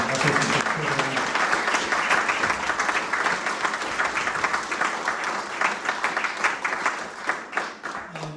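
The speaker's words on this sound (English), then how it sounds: "I'd like to give all 4 candidates a big round of applause" An audience at a 2024 local candidates forum applauds all four candidates, a dense, steady wash of many hands clapping that holds for several seconds and thins slightly toward the end.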